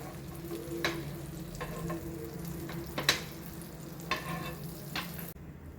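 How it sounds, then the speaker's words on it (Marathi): Steady frying sizzle of a buttered sandwich toasting on a hot griddle, with a few sharp clinks and scrapes of a utensil scattered throughout, no voices. "आता सँडविच आपण भाजून घेऊया"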